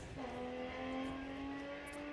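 Cameron Lepp's Datsun 240Z race car at the Historic Leyburn Sprints sounds as a steady engine whine with a slowly rising pitch, heard from a moderate distance over a constant outdoor rumble.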